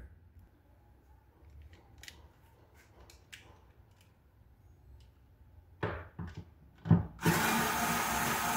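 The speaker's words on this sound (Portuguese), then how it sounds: "Então vamos estar retirando aqui esses dois parafusos aí" A power drill backs out two Allen screws holding a car's Black light brake light: a few short whirring bursts near the end, then a loud, steady drill whine that runs to the close, after quiet handling noises.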